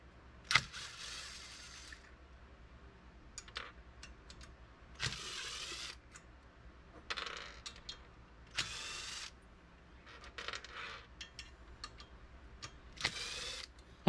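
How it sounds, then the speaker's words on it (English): A power tool or ratchet spins in short, repeated bursts separated by quiet pauses while the valve cover comes off a Predator 212 small engine, close up with no talking. "Take the valve cover off."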